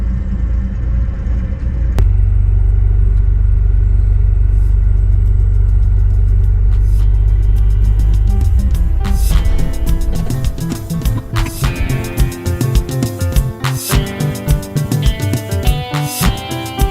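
Stinson 108 light aircraft landing and floating down the runway: a loud, steady engine drone that shifts at touchdown into rattling, bumpy rolling noises and clunks, with no talk.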